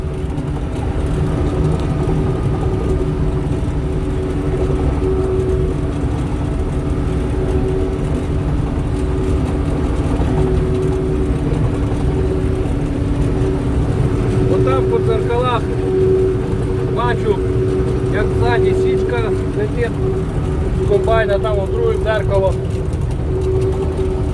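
A Claas Dominator 38s combine harvests buckwheat, giving off a loud, steady engine drone and mechanical rumble that runs unbroken throughout, with a faint voice-like murmur rising briefly in the later part.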